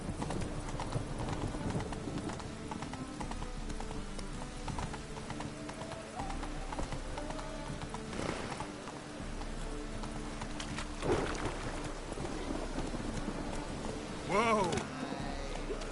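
The horse Roach trots in The Witcher video game, its hooves clip-clopping in a steady rhythm at moderate loudness, with a voice speaking over parts of it.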